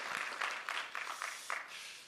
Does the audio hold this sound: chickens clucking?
no